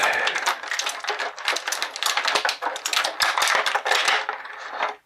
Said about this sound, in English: we're going to do some crinkly crackly stuff as we get these pieces out